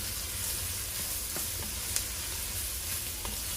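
Diced leftover ham sautés in a pan with a constant, dense sizzle that stays even and close, marked by a few faint clicks of a stirring utensil.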